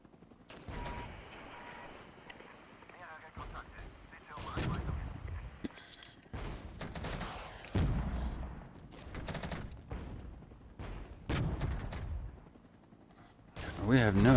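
Soldiers fire muskets in the Regiments video game, with repeated bursts of gunfire across the scene, some volleys close and loud and others farther off, mixed with battle noise and occasional talk.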